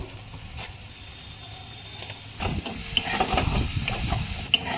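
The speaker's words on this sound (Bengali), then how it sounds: "এখন ভালো করে মশলাটা আমি কষিয়ে নেব যতক্ষণ না তেল ছাড়ছে" Spice paste frying in oil for a katla fish curry, a continuous close sizzle that grows louder and denser partway through, with scraping stirs and a couple of sharp clinks, no talking.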